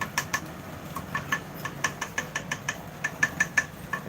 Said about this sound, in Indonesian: Yamaha Mio yang biru yang di depan itu bunyi ngelodok-ngodok bagian CVT